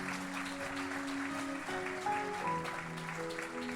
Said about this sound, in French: Est-ce qu'on applaudit le Seigneur?